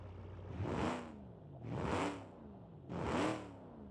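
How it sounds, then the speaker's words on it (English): A Studebaker Hawk engine in BeamNG Drive revs in three separate swelling bursts, each rising and falling in pitch with a throaty rumble, loud and close, with short idle gaps between them. "Nice rumble there."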